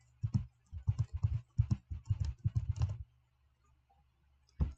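Quick bursts of keystrokes on a computer keyboard, about a dozen close, crisp clicks in an uneven rhythm over three seconds, then a pause and one final tap.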